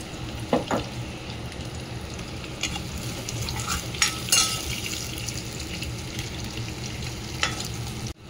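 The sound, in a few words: onions frying with ginger in a pan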